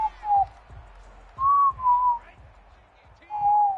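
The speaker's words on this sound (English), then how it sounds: "What's with the whistling, bro?" A person whistles a few short, wavering notes in separate bursts, close and clear, over a quiet background with some faint low thumps.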